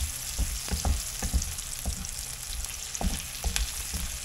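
Onions sautéing in a pan for ginisang kalabasa with pork belly, giving a steady close sizzle with scattered crackles and stirring scrapes, with no voices.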